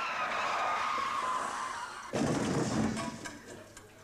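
A car skids while being parked, a broad screeching burst that cuts in halfway through and fades over the last second, following a steady whine.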